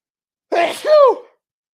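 A single loud, close sneeze, a sharp intake then a forceful burst, followed by silence.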